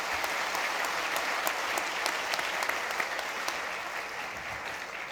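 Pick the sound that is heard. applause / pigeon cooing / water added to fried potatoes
applause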